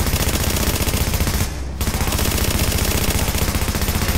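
Sustained rapid automatic gunfire from a shooter video game, loud and continuous with a brief gap partway through, no talking.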